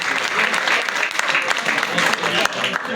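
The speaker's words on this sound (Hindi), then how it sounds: "एक बार तालियां बजाइए" Sustained audience applause at a Hindi kavi sammelan poetry recital, a dense, steady patter of many hands clapping throughout, loud and close.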